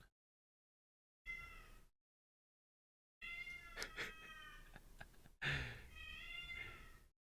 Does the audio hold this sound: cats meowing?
yes